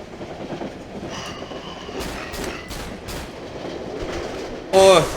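A train rumbles and clatters in the horror game Cry of Fear, with a steady rolling roar, bursts of metallic clanking, and a short loud screech near the end.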